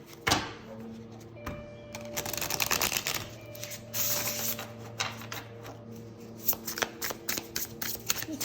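A card deck is shuffled up close, and then a single card is pulled out, giving bursts of riffling and sharp flicks with some faint speech underneath.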